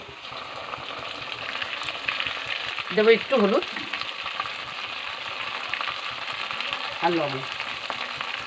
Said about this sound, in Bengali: এবার আমি যে সব একসঙ্গে বেটে রেখেছিলাম সেগুলো সব তেলে দিয়ে দেবো।